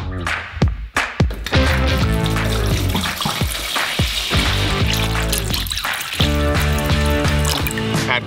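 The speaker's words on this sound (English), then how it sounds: "Pour water into a bowl." Water is poured into a bowl while preparing brine for a beef tongue, a loud continuous splashing gush with sharp drips and trickles at the start, close up throughout.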